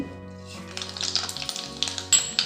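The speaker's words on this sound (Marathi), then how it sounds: "तापलेल्या तेलात मी आता मोहरी टाकते" Mustard seeds crackle and pop in hot oil, a burst of sharp irregular snaps over a low hum, growing livelier toward the end.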